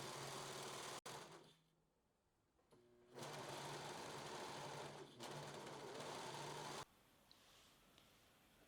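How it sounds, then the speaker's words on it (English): A serger overlocks the side seams, hems and shoulder seams of blouse fabric pieces with a steady, fast mechanical whir in several long runs that briefly slow and pause, close and fairly quiet, with no voices. "Now we're going to serge the sides"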